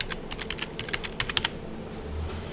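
Typing on a computer keyboard, a quick irregular run of close, crisp key clicks that pauses briefly before a low hum at the end, with no talk.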